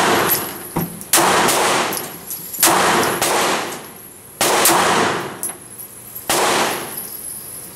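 Sharp, loud shots from a Glock 42 .380 ACP pistol, fired singly at irregular intervals of roughly one to two seconds, each with a ringing outdoor echo tail.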